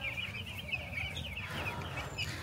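Young chicks penned in a small section of a large poultry farm peep and cluck continuously in a dense, overlapping chorus over a low background hum.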